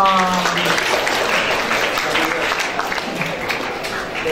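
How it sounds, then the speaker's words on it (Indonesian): Audience applause at a campus insurance seminar, a steady wash of clapping across the whole stretch with faint voices and a brief tonal sound at the start underneath. "Tepuk tangan dulu dong."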